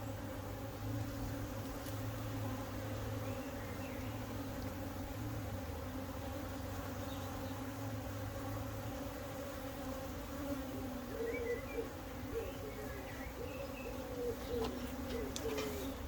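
Honeybees hum in a steady, dense drone from an opened hive during a swarm-cell inspection, a continuous close buzz holding for the whole stretch with a few individual bees rising and fading nearby.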